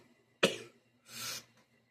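Two close, harsh coughs: a sharp sudden burst followed after a short pause by a longer, rougher one, with no talking around them.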